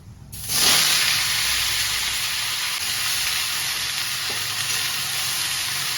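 Khero and potato pieces drop into hot oil with dry red chillies and five-spice seeds, setting off a sudden loud sizzle that holds as a steady, dense hiss with a faint scrape partway through.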